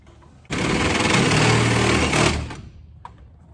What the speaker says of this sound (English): So I'm going to drill the hole first.